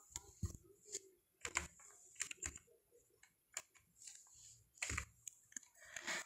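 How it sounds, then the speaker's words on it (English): Fingers tap out a file name on a computer keyboard, giving quick irregular clicks in short bursts with brief pauses, quiet and close by, and no one speaks. "And then I type the file name."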